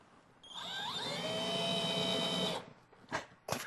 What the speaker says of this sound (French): je vais prendre n'importe quelle grosseur de mèche et je viens tout simplement en haut faire un